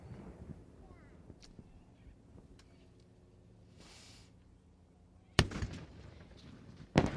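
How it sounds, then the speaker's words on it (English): Ceremonial cannons of a 21-gun salute at an Australia Day ceremony fire two loud, separated booms over a quiet, windy outdoor background with faint voices. "And the guns are sounding absolutely spectacular, Georgina."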